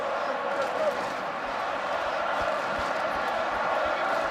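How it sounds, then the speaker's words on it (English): Crowd noise at a rugby sevens match between England and Germany at an Oktoberfest tournament, a steady loud roar of cheering filling the stadium throughout with no break. "You can hear that crowd getting behind them"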